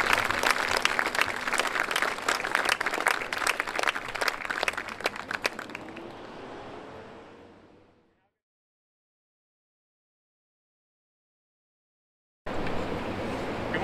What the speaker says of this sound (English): One more round of applause to all 12 of our cadets.